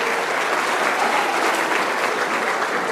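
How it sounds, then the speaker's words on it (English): Steady applause from an audience greeting Lisa as she is called up on stage at a National Premier League player draft held at a high school, continuous and fairly loud for the full length with no talk over it. "Yeah, let's give her a round of applause."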